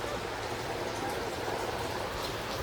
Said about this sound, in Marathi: बाबा मोकार पाऊस